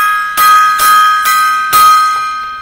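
A gong is struck five times in a slow, even salute, each loud, ringing stroke sustaining a bright metallic tone that overlaps the next, with no talking.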